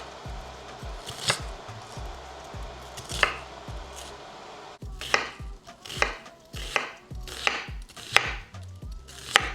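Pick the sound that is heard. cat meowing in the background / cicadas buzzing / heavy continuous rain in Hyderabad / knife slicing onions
knife slicing onions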